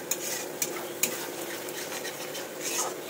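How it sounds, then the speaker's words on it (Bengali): Spiced masala fries in oil in a pan for a pumpkin and potato curry, a continuous sizzle broken by sharp clinks and scrapes of a spoon stirring against the metal at irregular intervals. "দিয়ে সুন্দরভাবে এটাকে এবার কষাবো যতক্ষণ না তেল মশলা থেকে ছেড়ে দিচ্ছে।"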